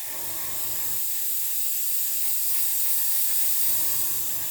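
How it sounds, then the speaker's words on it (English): Spray gun hissing steadily as it lays over-thinned Outlaw paint across a green surface, a continuous broadband spray held for about two and a half seconds and framed by brief low engine-like hum before and after. "As you can see, if I spray it over this green here,"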